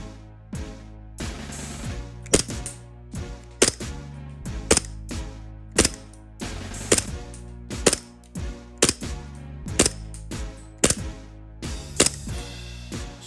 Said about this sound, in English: I'm going to fire the Waldo Custom ones through the chronograph and see what happens.